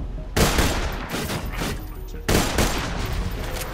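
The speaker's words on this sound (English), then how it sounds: "That sniper that we got, I kind of want to test that out." A burst-fire sniper rifle in the shooter game Borderlands 2 fires two loud, sharp bursts about two seconds apart, each rattling quickly before trailing into the game's background noise.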